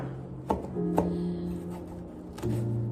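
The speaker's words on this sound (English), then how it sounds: "we'll start off by chopping up some onions and the bok choy, all the veggies" A knife chops onions and bok choy on a cutting board in a home kitchen, with a few sharp, spaced strikes close by, separated by quiet pauses.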